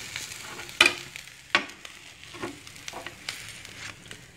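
Bread slices for French toast fry gently in desi ghee over a low flame, giving a faint, steady sizzle broken by a few sharp clinks and soft scraping sounds from a utensil.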